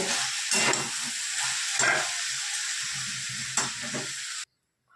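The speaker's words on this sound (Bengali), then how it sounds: "এরপর আমি একটু কষিয়ে নিয়ে একটা পাত্রের মধ্যে ঢেলে নেব।" Cooked chicken being stir-fried in a pan: a loud, close hiss of frying with rhythmic spatula scrapes every second or so, ending abruptly in silence.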